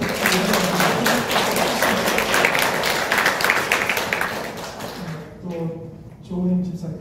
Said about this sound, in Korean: 하나님께 영광 돌리는 박수로